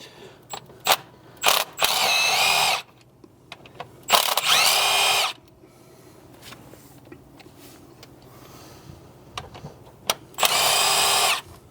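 A cordless power drill backs bolts out of the crankshaft pulley on a 2002 Mitsubishi Galant, three loud whirring bursts of about a second each, separated by quiet clicks and handling noises.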